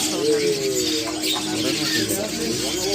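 A pied starling (suren) calls at a crowded bird market, its warbling notes rising above constant background chatter and nearby voices.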